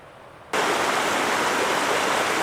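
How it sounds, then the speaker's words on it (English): Water rushing down a natural rock water slide on a forest trail, running high after rain; a loud, steady roar that starts abruptly and continues unbroken at close range without talk. "Well, there's the water slide."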